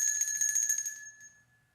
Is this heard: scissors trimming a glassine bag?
no